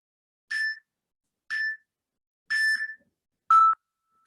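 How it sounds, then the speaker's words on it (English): A workout interval timer at a bodyweight bootcamp class gives four evenly spaced electronic beeps about a second apart, clear and isolated against silence, the last one slightly lower in pitch. "Every time you hear something on the timer, if you're moving, it means stop."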